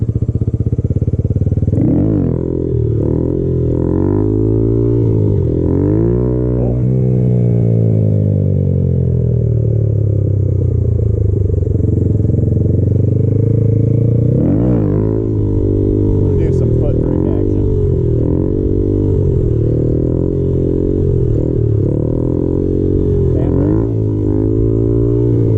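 A Honda Grom motorcycle idles loudly up close while being rocked back and forth on its handbrake, the engine note dipping and swelling in repeated surges with faint clatter.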